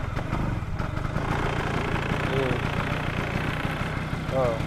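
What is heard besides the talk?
Vespa two-stroke motorcycle engine idling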